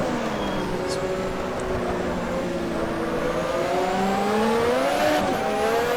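A 1988 Formula One race car spins its rear tyres in the Automobilista video game, the engine screaming at high revs with rising and falling pitch as the wheels break loose, loud and continuous throughout.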